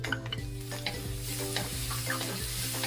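Shrimp paste (bagoong) sizzling and being stirred with translucent onions in a hot pan while cooking young jackfruit with shrimp in coconut milk; steady frying hiss with repeated scraping stir strokes, close and continuous, no talking.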